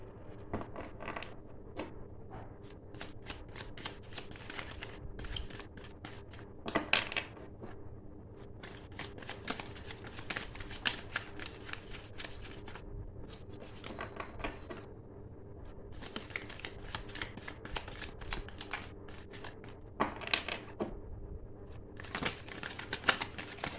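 Tarot cards are shuffled close up, with a continuous riffling, flicking patter broken by brief louder bursts of rapid card snaps.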